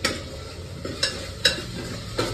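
Roasted spices for village-style mutton sambar fry in a pan, a steady soft sizzle broken by several sharp scrapes and clinks of a stirring utensil at irregular intervals.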